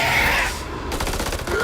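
Gunfire in the Dark Pictures House of Ashes video game: a dense, loud burst of rapid shots fills most of the moment, briefly easing before another run of sharp repeated reports.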